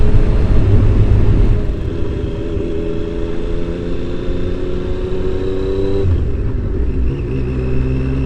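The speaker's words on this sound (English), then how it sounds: "It does sound nice on the overrun as well with that exhaust." Triumph Daytona T595 sports motorcycle engine with aftermarket exhaust, heard from the rider's seat while on the move: a steady loud drone that drops back off the throttle and burbles on the overrun, with wind noise throughout.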